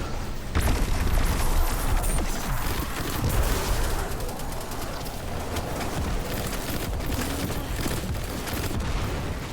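Rapid gunfire from a Destiny 2 firefight crackles steadily through the scene, dense bursts of shots layered with booms and game noise at a fairly constant loud level.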